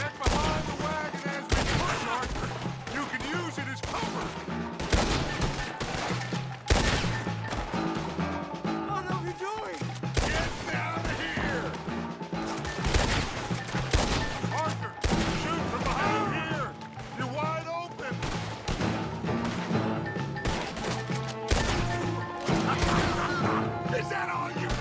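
Dense, continuous gunfire and volleys of shots from the video game Red Dead Redemption 2, loud and sustained throughout, with overlapping bursts, crashes and booms, while people talk over the action.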